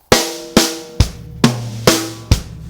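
Drum kit fill with the right hand moving up to the high tom, six sharp hits spaced evenly with ringing tom tones between kick and snare strokes, close and loud with no talking.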